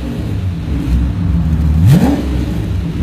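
Jaguar E-Type V12 with a Classicfabs cast manifold exhaust idles with a steady low rumble, then gives a brief blip of revs that rises and falls before settling back to idle.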